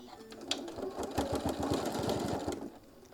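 A sewing machine basting with long stitches on a travel case for a mini iron, giving a quick burst of evenly spaced mechanical ticks that speed up, hold briefly and then stop, close and clear.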